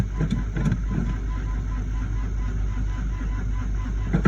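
An old Suburban truck engine cranking in a cold start, a steady low mechanical drone with a few faint knocks near the start, close and loud.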